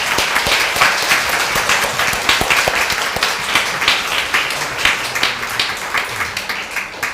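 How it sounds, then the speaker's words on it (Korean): A church congregation at a Sunday service claps warmly to welcome guests, a dense, continuous patter of many hands that holds steady and close for several seconds without talk over it. "두 분 일어나실 때 뜨거운 박수로 환영합니다."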